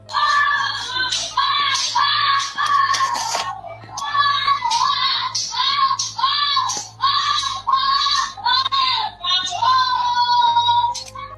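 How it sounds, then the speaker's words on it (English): A child screams and wails in repeated long, piercing bursts with brief gaps, loud and close, for the whole stretch. "These screams went on for another 2 minutes, which is so horrible."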